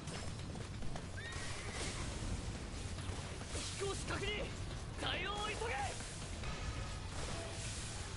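A video game horse neighs with bright, wavering whinnies, repeated a few times over a steady background drone, with hoof clip-clop mixed in.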